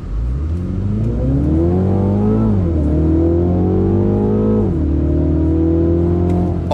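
A BMW MINI revs hard while accelerating through the gears on a test drive, a loud buzzy engine note climbing in pitch, dropping at each upshift, then climbing again, heard from inside the car.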